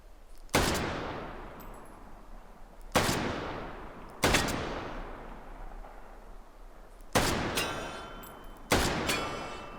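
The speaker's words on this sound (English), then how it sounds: "we're just going to start off with a few more shots through the Johnson rifle" Five loud, sharp rifle shots from an M1941 Johnson rifle fired at targets in a VR game, spaced a second or two apart, each with a long ringing decay and no talking.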